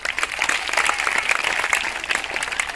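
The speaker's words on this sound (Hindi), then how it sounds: "इसके लिए तालियां आनी चाहिए जोर से।" An audience at a school magic show applauding loudly, a sustained dense patter of many hands clapping at close range throughout.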